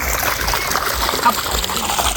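Water flowing steadily outdoors near a roadside pit, a continuous splashing trickle heard close up with a voice talking over it.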